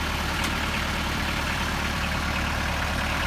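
A steady, low tractor engine idles nearby, a continuous rumbling drone that holds constant throughout with no talking.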